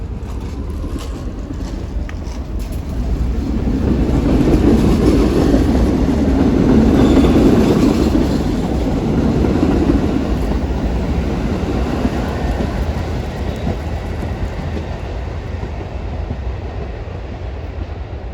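A Staten Island Railway train rumbles steadily past on rails near Huguenot station, a heavy low roar that swells in the middle and stays loud, with faint clicking of wheels, no voices.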